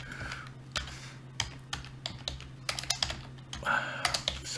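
Irregular clicking of keys on a computer keyboard, quick bursts of taps with short pauses, close and fairly quiet over a low steady hum.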